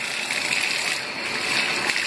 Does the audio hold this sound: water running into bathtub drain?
yes